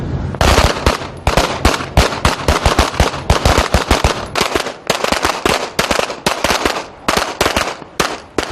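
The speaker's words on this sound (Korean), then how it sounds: "흔들리는 배 위에서 바람의 저항을 받으며 사격을 해야 하는 악조건" Rapid volleys of gunfire from coast guard shooting practice aboard a ship at sea: dense, sharp cracks in quick bursts, loud and close, continuing almost without pause.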